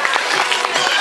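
An audience claps briefly at an animal theatre show on an eco farm, a dense burst of applause that fills the whole short moment, close and fairly loud.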